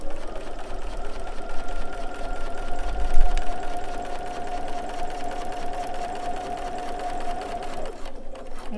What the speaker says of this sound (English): I've got my sewing machine set to stop with the needle down.